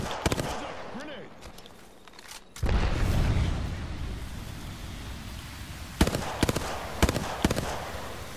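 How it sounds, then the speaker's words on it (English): A grenade goes off in a shooter video game, a loud broadband blast that swells suddenly and rumbles on for several seconds, followed by a few sharp cracks of gunfire near the end. "Grenade."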